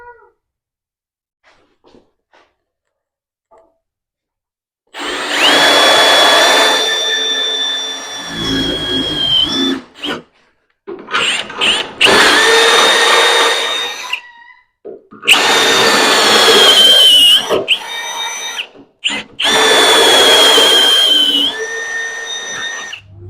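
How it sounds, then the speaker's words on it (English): A drill bores a hole in the front suspension crossmember of a 1964 Ford Fairlane during a tubular suspension build, whining loudly in several long bursts with short pauses between, close up after a quiet start. "finish drilling this hole."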